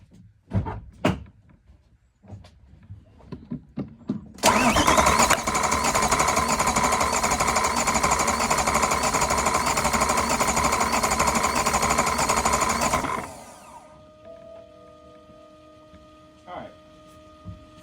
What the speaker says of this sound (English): So now I'm gonna crank the car.